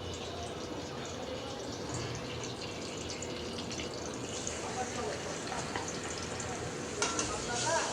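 Pabda fish, scrubbed clean and washed, frying in a pan in a home kitchen, giving a steady close sizzle and crackle that runs throughout, with occasional stirring clatter toward the end.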